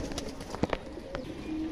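A golden Kamghar pigeon gives a few soft, brief coos and calls close by, faint against a low background hum.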